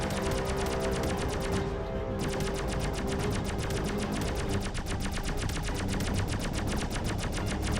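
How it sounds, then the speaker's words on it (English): Rapid automatic weapons fire in the video game Rodina, a loud continuous stream of fast regular shots with a brief lull near the two-second mark, filling the whole stretch. "the weapons fire looks really weird in this game"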